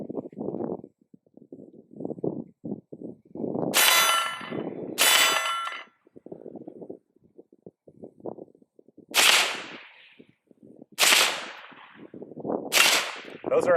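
Pistol fire from a 5.7 at a range with steel targets: a run of quick, sharp shots and several loud ringing clangs spaced across the sequence, with no voices.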